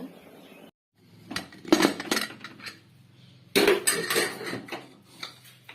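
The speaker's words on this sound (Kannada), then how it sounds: "ಕುಕ್ಕರ್ ಕ್ಲೋಸ್ ಮಾಡ್ತೀನಿ." A home cook handles a pressure cooker while making a rice dish, the metal lid clanking and scraping into place in a few sharp bursts of clatter, close and loud, with no talk.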